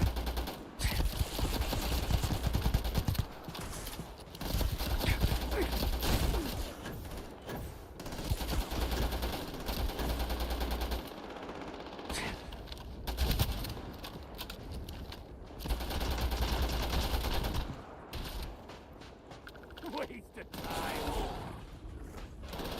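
Rapid, loud gunfire from a heavy-recoil weapon in modded Starfield, long sustained bursts of shots broken by brief pauses, with someone talking over parts of it.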